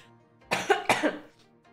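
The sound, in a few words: cough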